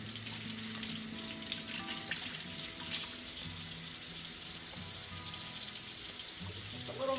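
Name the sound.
cold tap water rinsing homemade butter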